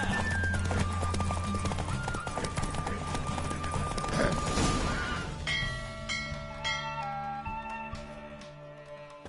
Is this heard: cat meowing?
no